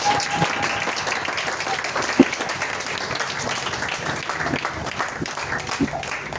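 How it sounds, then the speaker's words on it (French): A church congregation applauds and cheers in a steady, continuous wash of clapping with scattered shouts, filling the room for several seconds at a fairly loud level. "Est-ce que tu peux acclamer pour toi-même?"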